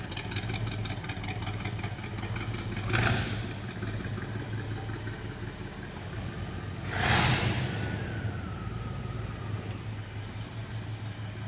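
A 1972 Buick Skylark GS with a 350 engine runs at a steady idle for the whole clip, with a constant low hum and two brief louder swells near the start and middle, and no voices.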